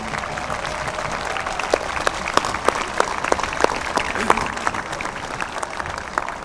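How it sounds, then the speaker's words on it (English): A crowd at a high school graduation ceremony claps steadily, a dense even patter of applause with a few sharper claps standing out, sustained throughout. "Please give a round of applause to the teachers, administrators"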